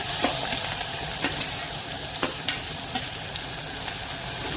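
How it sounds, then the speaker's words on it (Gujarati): Garlic, chili and onion sautéing in hot oil with curry leaves, a steady close sizzle broken by several sharp scrapes of a spoon stirring through the pan. "બસ હવે આ બધું આપણે એકવાર હલાવીને સાતળવા દઈશું"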